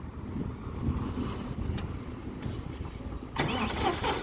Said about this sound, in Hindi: अब इस ट्रैक्टर को जो है चला के दिखाएंगे आपको कैसे जो है ट्रैक्टर स्टार्ट होता है